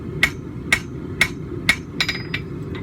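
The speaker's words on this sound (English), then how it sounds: "not doing any harder blows, but a little bit more weight to help us solidify these welds in here." Hammer blows forge welding a steel back scratcher: four evenly spaced heavy ringing strikes, then a few quicker, lighter taps, all heard close over a steady low forge roar.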